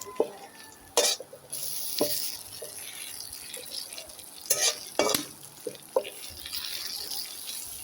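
Two torn bay leaves sizzling in a cooking pan for a sour palmyra palm fruit dish: a low frying hiss broken by repeated clinks and scrapes of a utensil against the pan, with brief louder crackles.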